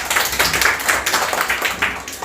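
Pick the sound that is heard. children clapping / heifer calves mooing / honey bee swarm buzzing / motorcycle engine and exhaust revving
children clapping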